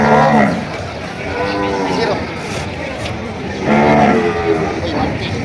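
Cattle at a livestock market moo loudly and close by, with two long bellowing calls over steady background crowd noise and talk.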